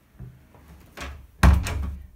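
Hotel room doors in Orvieto, Italy, bang in strong wind: a soft knock, then a louder thump, then a sharp heavy slam with a brief rattle, all close and indoors, with no voices.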